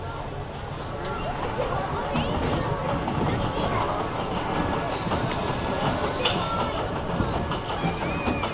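A family roller coaster train at Drayton Manor rattles steadily along its track with rhythmic clacking and occasional wheel squeals, voices faintly mixed in beneath.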